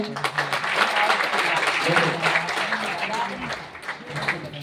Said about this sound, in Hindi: इनके लिए एक बार जोरदार तालियां होंगी।